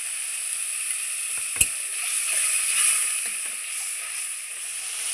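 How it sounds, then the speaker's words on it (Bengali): Water splashes into a pan of sizzling mustard and poppy seed masala, giving a steady close fry hiss with a brief sharp burst and soft stirring scrapes that settle back into a continuous sizzle. "কিছুক্ষণ নাড়াচাড়া করার পর এবার একটু দিয়ে দিচ্ছি জল।"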